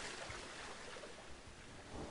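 A waterfall pours out of rocks in a Planet Zoo zoo built in an Indian style, giving a steady, even rush of falling water for the whole stretch with no voices over it.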